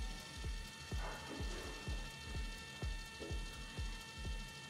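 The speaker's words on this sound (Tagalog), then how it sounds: "Calibrating printer." A steady mechanical ratcheting from a portable photo printer calibrating, evenly spaced clicks repeating about twice a second beneath a constant motor whine, close by with no voices.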